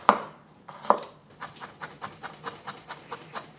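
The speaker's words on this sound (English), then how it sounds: "And I'm just going to chop it up." A knife chops a large garlic clove on a board: two sharp opening strikes, then a quicker run of about a dozen evenly spaced, close chopping taps.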